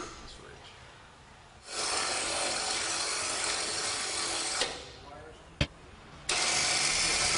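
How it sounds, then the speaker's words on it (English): A Mile Marker PE8000 electric winch runs in two loud, steady bursts of motor drone separated by a quieter gap with a single sharp click, close by and with no voices. "Now to use the winch, simply plug the remote control in and you're ready for action."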